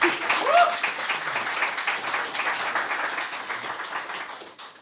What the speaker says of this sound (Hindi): जोर से तालियां एक बार मैडम।